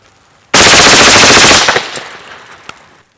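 A silenced MP7 submachine gun fires a single fast automatic burst in CS:GO, loud and dense for about a second, then tails off into a fading rattle with a faint click.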